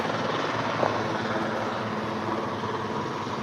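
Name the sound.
helicopter landing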